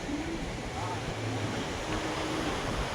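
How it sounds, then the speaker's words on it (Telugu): Surf on Agonda Beach in South Goa: a steady, broad wash of waves breaking, heard close and continuous, mixed with wind noise on the microphone. "అగాండా లోయర్ బీచ్ ఇది"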